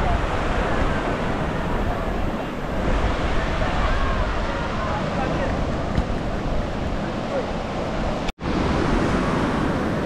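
Surf rolls and wind buffets the microphone on a breezy, gloomy New Smyrna beach at high tide, a steady loud wash of waves and gusts with a sharp brief dropout near the end.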